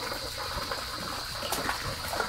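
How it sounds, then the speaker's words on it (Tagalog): Water pouring steadily into a tilapia fish pond on a small farm, a faint continuous gushing and splashing at moderate distance with no talking. "Nagdagdag ka na ng tubig."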